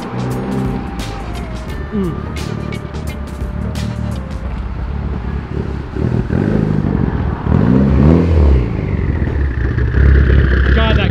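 A car engine rumbles and revs up close, its pitch rising and falling through several throttle blips, with people talking over the steady engine noise.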